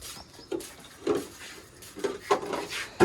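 A knife chops onions on a board in a home kitchen, a few irregular knocks and taps with faint clinks between them, quiet and close, no talk.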